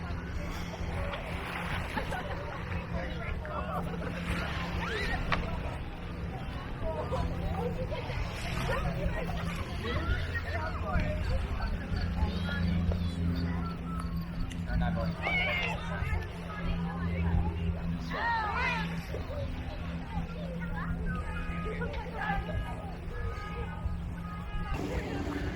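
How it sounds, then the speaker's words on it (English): Wind buffets the microphones of an iPhone 11 and an Osmo Pocket on a beach, a steady rough rumble and hiss throughout, with voices and distant chatter mixed in. "Wind, we got some, you probably hear some across the microphones"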